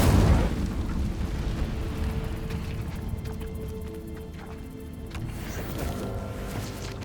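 Incendio fire spell cast in Hogwarts Legacy on PS5, a loud whooshing roar that bursts open at the start and then sustains as a steady rumbling burn.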